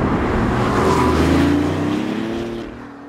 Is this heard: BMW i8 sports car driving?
yes